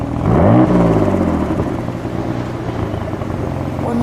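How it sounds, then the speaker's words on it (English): A 1992 Dodge Stealth R/T AWD with a V6 twin-turbo engine rises in one loud rev near the start, its pitch climbing then settling back to a steady idle hum, with faint talk. "Craig, give it one rev, please."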